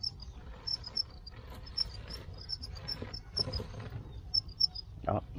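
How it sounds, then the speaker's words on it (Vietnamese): Crickets raised as live feed for pet birds chirp in steady, high repeated trills close by, with brief rustling and scratching from the insects moving around underneath. "Dế này mình nuôi cho ăn đầy đủ, bự ghê"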